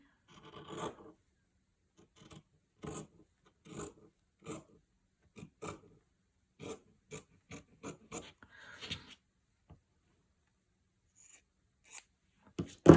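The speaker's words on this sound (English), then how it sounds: "I trim this even with the piece that I'm working on." Scissors trim fabric scraps even with a small bohemian table runner piece, giving a series of short, quiet snipping and rasping cuts in irregular bursts with silent gaps between.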